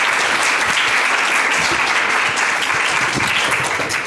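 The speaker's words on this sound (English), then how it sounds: "So let's give another round of applause." An audience at a university food systems panel applauds steadily, a dense, sustained clapping that fills the room with no break and faint voices underneath.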